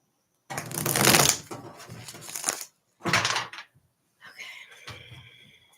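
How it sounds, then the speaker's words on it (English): Tarot cards being shuffled by hand, several quick riffling bursts with short pauses between them, close and fairly loud. "Let me do one more shuffle."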